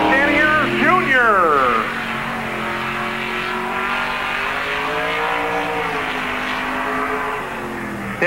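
The 91 stock race car of the NASCAR Busch All Star Tour laps Park Jefferson Speedway in 1997, its engine rising and falling in pitch as it sweeps past, with a voice talking over it throughout.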